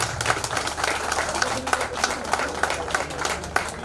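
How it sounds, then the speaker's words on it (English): Audience clapping at a one-day tax conference, a crowd of hands beating in a fairly quick, uneven rhythm at moderate distance, with a voice speaking over the clapping at times. "It needs a clapping"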